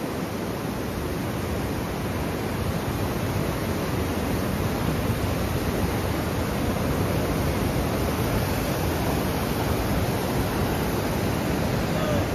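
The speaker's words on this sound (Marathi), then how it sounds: "पाण्याचा फुल असा प्रवाह चालू आहे." The Sina river runs in full flood, a broad, steady roar of rushing water that stays even and unbroken throughout, with no voices.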